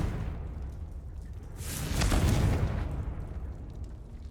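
A Confringo fire spell detonates in the Hogwarts Legacy video game, a single soft, broad burst with a rushing swell that peaks and fades over about a second against steady game ambience.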